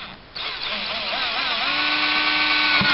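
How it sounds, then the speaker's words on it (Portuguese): A power drill with a 1/4 inch bit bores a hole near the edge of a homemade chicken feeder, spinning up sharply after a brief pause into a loud, steady whine that holds for the rest of the moment. "aqui próximo da borda, você vai fazer um furo com a broca de 1/4"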